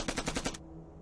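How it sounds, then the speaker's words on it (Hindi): A short burst of about five rapid gunshots from two shooters in a film firefight, loud and close, then cutting off into quiet background. "इनकी तरफ से 2 लोग से फायरिंग हो रही है।"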